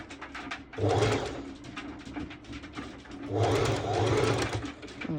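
Sewing machine stitching swimsuit fabric, two close, loud bursts of rapid needle chatter separated by a quieter pause with small handling clicks.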